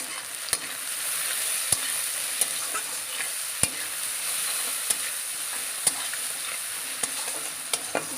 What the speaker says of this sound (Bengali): দিয়ে আমি এটাকে একটু লালচে করে ভেজে নেব।